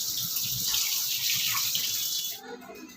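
Tap water runs steadily with a broad, close rushing splash while fresh fish is rinsed, then the flow cuts off and quieter background sound remains.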